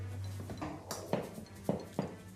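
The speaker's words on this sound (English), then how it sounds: "you want to make sure it's mashed really well" Patty mixture mashed in a bowl, giving a few soft clinking knocks of utensil against the bowl spaced through a low steady hum, fairly faint and with no talking.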